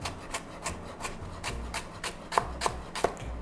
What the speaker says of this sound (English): So I'm gonna chop them all up so you can see